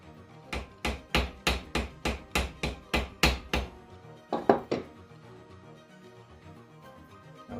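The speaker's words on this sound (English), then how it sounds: "we've got a small ball peen hammer" Small ball peen hammer tapping a small stainless steel part on a backed surface, a quick run of about a dozen light sharp taps, then a pause and a couple of softer strikes, close and alone.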